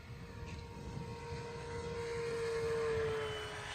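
A Red Bull Edge 540 RC airplane drones overhead at a distance, its propeller engine whining steadily and rising slightly in pitch as it passes.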